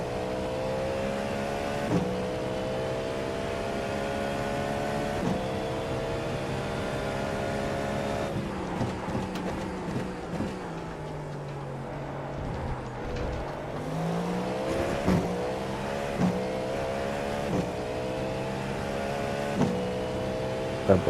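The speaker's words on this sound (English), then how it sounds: "That bump start sounds amazing." Race car engine in the iRacing simulator at the Sebring 12 Hours, droning steadily with harmonic revs that dip and climb again through gear changes, continuous and fairly loud throughout.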